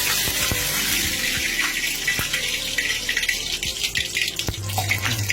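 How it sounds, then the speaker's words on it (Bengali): Dried chillies frying in hot oil for a broiler chicken bhuna give a steady, loud hiss with scattered crackles and a few sharp knocks, continuous for the whole stretch with no talking. "এখন আমরা তেলের মধ্যে দিয়ে দিচ্ছি শুকনো মরিচ"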